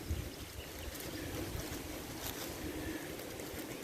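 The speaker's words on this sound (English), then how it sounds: "the wind blowing it away" Outdoor wind gusting near a beehive, a steady low rumbling buffet of wind noise across the microphone, constant and fairly loud with no talk.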